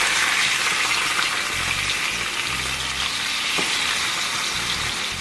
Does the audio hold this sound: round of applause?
no